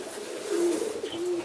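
Homing pigeons coo softly in a short, low, throaty call, the warbling notes rising and falling twice, close by and alone, in a loft setting.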